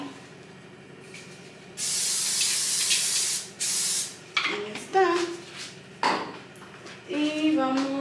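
Canola oil sprayed from a can for cooking gives a loud hissing burst lasting over a second, then a second shorter spray, followed by clinks of kitchenware and bits of talk.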